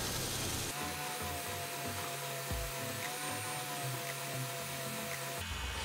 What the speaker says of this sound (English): I'm going to be using my belt sander.